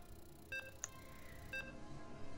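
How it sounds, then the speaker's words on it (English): Short electronic beeps from the StarCraft game client before a match starts, two or three quiet tonal blips spaced about a second apart over faint background hum. "You guys can hear the beeps."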